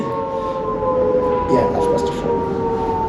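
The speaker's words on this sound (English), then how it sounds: "It's an air raid siren, but okay." Air raid siren sounding to signal the stop of work at a site among ruins in Zimbabwe, a steady sustained wail throughout, loud and close, with a brief spoken remark over it.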